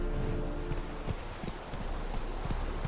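Roach, the horse in The Witcher 3 video game, trots with a quick, steady clip-clop of hooves over a constant low background rumble, close and moderately loud, with no talking.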